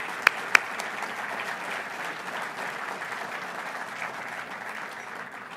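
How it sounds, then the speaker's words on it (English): Steady audience applause at a community breakfast event, a dense even clatter of many hands filling the room for several seconds, with two sharp louder claps near the start and no talking. "please join me in a round of applause."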